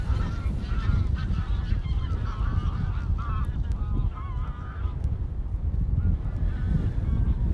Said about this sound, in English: Alright, so we've got all the geese here.